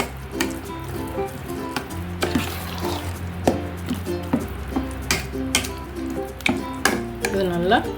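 A spoon mixes curd into warm cooked rice for creamy curd rice, making repeated soft clinks and scrapes against the vessel with wet squelching stirs in an irregular rhythm, close and clear.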